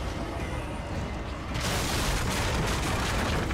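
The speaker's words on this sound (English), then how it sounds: "That's the sound of the room come crumbling behind me." A room crumbles during play of The Evil Within, a continuous loud rumbling collapse that swells into denser crashing debris midway, with no talk over it.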